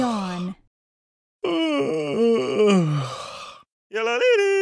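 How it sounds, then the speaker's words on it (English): A stylized yawn sound effect from the Metamorphabet flashcard app on iPhone, a drawn-out voiced groan that rises and falls, heard twice with silence between. "Yawn."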